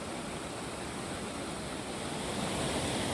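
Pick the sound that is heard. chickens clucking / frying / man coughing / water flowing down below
water flowing down below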